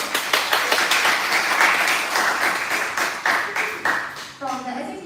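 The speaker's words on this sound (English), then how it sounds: "let's now give a big round of applause to introduce our two debate teams" At an inter-varsity debate, an audience claps to welcome two debate teams, with distinct rhythmic claps that thin out before a voice starts speaking at the end.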